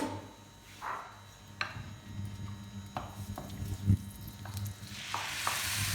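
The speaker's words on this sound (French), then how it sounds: "on va faire revenir les oignons" Onions sautéing in a pan, a soft steady sizzle under repeated scrapes and clinks of a utensil stirring them, close by with no talk.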